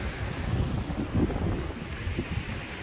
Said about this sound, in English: these waves are coming in, boy